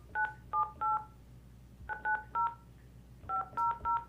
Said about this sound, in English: then you have to dial the phone, so Dean Stone and them can call